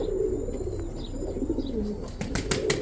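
Young pigeons coo steadily nearby in a loft, low continuous cooing with a few chirps and wing flutters, joined by other birds.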